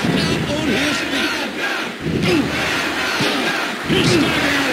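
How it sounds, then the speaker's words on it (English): Wrestling arena crowd in the WWF Warzone PlayStation game roaring and cheering, a loud continuous wall of noise with swelling surges, and a commentator talking over it. "But the Cassidy crowd comes alive."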